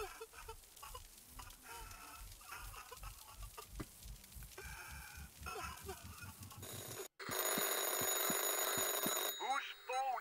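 A telephone rings in the horror video game Anthology of Fear, a repeating electronic ring that grows loud and steady over the last few seconds after a stretch of game sounds and music.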